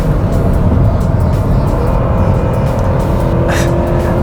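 A 2020 Honda Civic LX engine holds a loud, steady high-rpm drone from inside the cabin, a constant strained hum with little change throughout.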